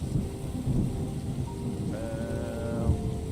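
Steady rain in the video game Terra Nil, a dense wash of hiss with low rumbling swells like distant thunder, continuous throughout with faint tonal game music rising briefly midway.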